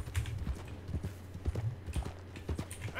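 Horse hooves clip-clop at a walking pace in the video game Red Dead Redemption II. The steady, close, rhythmic thuds play over faint outdoor ambience, and no one speaks.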